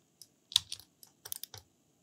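Sparse, clicky keystrokes on a computer keyboard while drafting a coffee table design in SketchUp, arriving as a few scattered single taps and a quick cluster of presses, close and fairly quiet.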